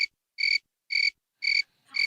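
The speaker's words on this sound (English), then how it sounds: "Put crickets in." Crickets chirp in four even, evenly spaced pulses of shrill trilling, loud and close against silence, added as a comedic sound effect.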